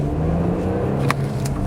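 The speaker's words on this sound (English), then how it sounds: "as soon as you step on it, you can definitely feel that turbo V6 kick in" Porsche Macan S turbo V6 SUV engine pulling under acceleration, a steady low drone heard from inside the cabin, loud and continuous with no talking.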